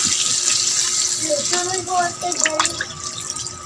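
Water is poured into a pot while cooking pork soup, a close running and splashing flow under a light background hiss, with a few faint voices talking.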